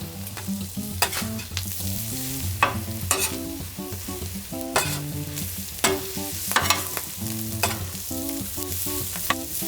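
Onions and brisket fry on a flat-top griddle with a steady sizzle, broken by repeated scraping and stirring strokes of a spatula at a brisk, uneven rhythm, close and moderately loud.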